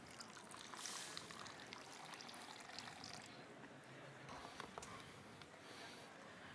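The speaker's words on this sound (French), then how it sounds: "So we add some more liquid cream." Liquid cream and broth poured into a sauce during a culinary demonstration: a soft continuous wet trickle and splash, faint and steady across several seconds, in a roomy kitchen ambience without clear talk.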